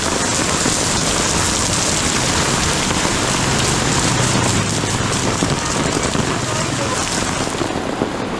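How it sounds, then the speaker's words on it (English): Heavy rain pours in Hanoi, Vietnam, a dense, loud, unbroken hiss of rain on surfaces that carries on steadily from start to finish, with no pauses. "like it's raining like hell."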